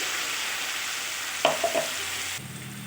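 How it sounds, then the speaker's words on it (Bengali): Onions fry with turmeric and spice paste in a pan, giving a steady soft sizzle. Midway there is a brief clatter of stirring, then the sizzle changes tone. "পেঁয়াজগুলো প্রায় ভাজা হয়েই গেছে এবার আমি এতে দিয়ে দিচ্ছি পেস্ট করে রাখা সব মশলার উপকরণ"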